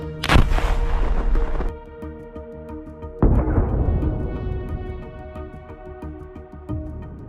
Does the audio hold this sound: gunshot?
yes